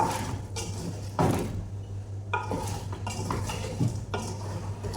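Spoon stirring a chicken and vegetable Arabic-style curry with tomato in a metal pot, with repeated scraping and clinking strokes at an uneven rhythm, close and moderately loud over a steady low hum.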